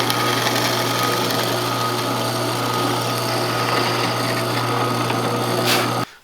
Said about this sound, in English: I just need to drill a hole in that guy